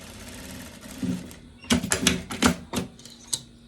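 Sewing machine running a short finishing seam on a viscose dress neckline, quiet at first and then a series of sharp, uneven mechanical bursts and clacks near the machine.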